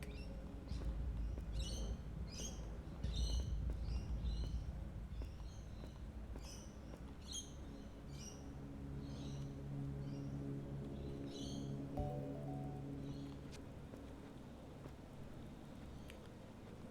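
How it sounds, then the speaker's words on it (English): A cat character in the video game Even the Ocean makes quick bird-like chirps in short repeated bursts over a faint, low background hum, soft and fairly quiet throughout. "Kitty making bird noises because it's a little confused."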